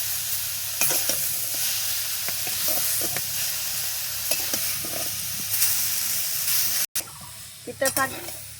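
Tender, bitter jute leaves fry in a pan with a loud, steady sizzle broken by stirring scrapes and clatter. A short gap comes near the end, and someone speaks at times.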